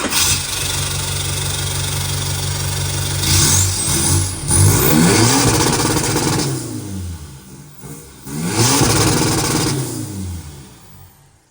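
A diesel ute's engine with a 4-inch stainless steel DPF-back diff-dump exhaust revs repeatedly, rising and falling in several loud bursts over a rumbling idle, close by.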